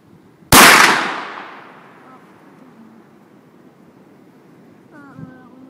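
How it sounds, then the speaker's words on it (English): A single loud .44 Magnum revolver shot cracks sharply near the start and leaves a long decaying boom and echo outdoors, followed by quiet background with a faint voice near the end. "It's good to be shooting a gun again, though."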